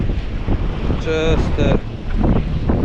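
Wind buffets the microphone at a coastal jetty, a loud, continuous rumbling roar that swells and eases, while someone speaks briefly over it.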